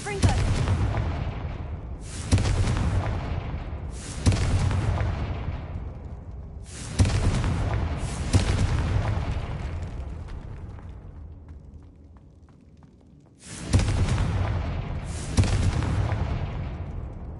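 Seven heavy blasts of the Confringo spell explode in Hogwarts Legacy, loud booming bursts each decaying into a rumbling tail, spaced roughly two seconds apart with a longer quiet stretch before the last two.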